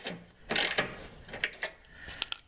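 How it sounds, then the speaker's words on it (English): A ratchet with a 15mm socket tightens a mower deck adjustment bolt, giving a few bursts of sharp metallic clicking and ratcheting at close range, separated by brief pauses. "I'm using my same 15mm socket with the ratchet,"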